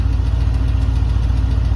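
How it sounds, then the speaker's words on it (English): A V8 idles at about 850 RPM with a steady low rumble and a rapid engine tick riding over it, loud and close, with no other sound. "the damn ticking engine's louder than the exhaust"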